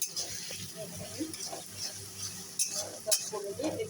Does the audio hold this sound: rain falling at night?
no